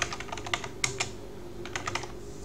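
Someone types on a computer keyboard in quick, uneven bursts of close, crisp key clicks, pausing briefly in between, with no talking.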